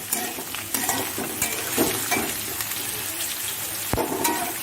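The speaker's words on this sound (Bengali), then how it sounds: "পেঁয়াজ রসুনটা একটু লাল করে ভাজা হবে, তারপর মাংসটা দিয়ে দেব।" Onion and garlic fry in oil with cumin, cardamom, cinnamon and dried chili for mutton curry, giving a steady close sizzle with repeated spatula stirring and scraping.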